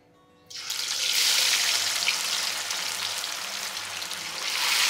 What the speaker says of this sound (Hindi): मछली डाल देते हैं कढ़ाई में